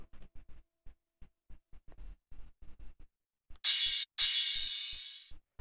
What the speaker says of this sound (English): Basically, it's just this longer crash sample.